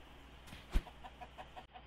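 A rooster in the survival video game Miscreated gives one short cluck, followed by a few faint, evenly spaced chirps over a quiet ambient background.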